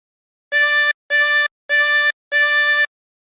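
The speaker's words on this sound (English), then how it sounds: "For phrase 3, breathe in through 6 4 times" Four short, evenly spaced draw notes on the same pitch from hole 6 of a 16-hole tremolo harmonica, each held about half a second with brief gaps, bright and reedy with a slight wavering shimmer, played alone and close.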